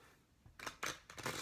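Brief crisp riffling and slapping of a Motherpeace mini tarot deck being shuffled by hand, three or four quick close bursts after a quiet start.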